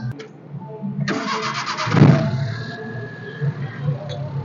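A used Maruti Omni van's engine cranks briefly with a rattling starter, catches with a rough burst, then settles into a steady low idle, recorded close by.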